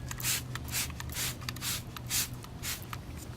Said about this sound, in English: So just spray it on.